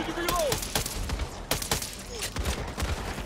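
Sharp gunfire bursts in the zombie shooter Back 4 Blood, several loud cracks in quick succession with short gaps, mixed with game effects and a voice speaking.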